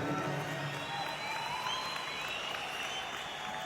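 An audience at a business motivational meeting gives sustained applause with some cheering, a broad, even wash of clapping from a crowd at moderate distance.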